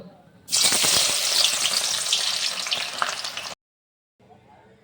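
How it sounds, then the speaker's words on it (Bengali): Chopped onions hit hot oil with a loud, dense sizzle that runs steadily for about three seconds, then cuts off abruptly, leaving a quieter background crackle of frying. "এই কুচানো পেঁয়াজের কিছুটা আমি বাদামি বর্ণের করে ভেজে তুলে নেব"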